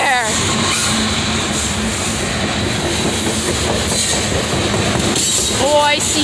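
A CSX Q301 freight train hauling boxcars rumbles past close by, with steady rolling wheel noise, clacking and a brief wheel squeal near the end. Voices are heard over it.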